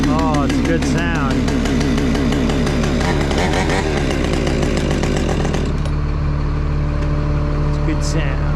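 A Redbeard Saws 550 chainsaw engine runs loud and close, revving with a raspy two-stroke snarl before settling to a steady high drone, with no one speaking.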